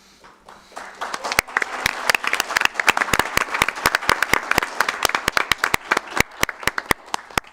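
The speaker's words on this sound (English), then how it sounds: "Clap, clap, clap, clap." Audience applause at a town council meeting, starting with scattered claps and building into steady, dense clapping from many people, close and fairly loud, with no talking over it.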